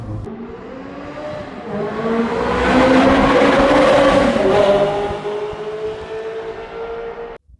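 A 2002 Ferrari 360 with a Tubi exhaust revs up, its engine note rising to a loud, sustained peak in the middle before easing back down and cutting off abruptly at the end.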